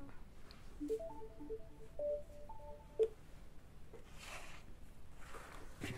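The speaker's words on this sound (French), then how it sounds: "Je décrocherai le téléphone et je vous montrerai à la fin ce que ça donne." A telephone gives a quick run of short stepped electronic tones, faint and close, followed by a few seconds of low background hiss with soft rustling.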